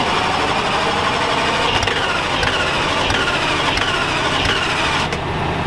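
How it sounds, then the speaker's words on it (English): A 2006 Lamborghini Gallardo engine cold-starting: a loud, continuous, high-revving roar that holds steady for several seconds with brief surges, close by and alone. "This is a very cold start on a 2006 Lamborghini Gallardo."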